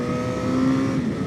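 Track motorcycle engine on a circuit, a loud sustained rev with a rising and falling whine as it changes down a gear, close and continuous.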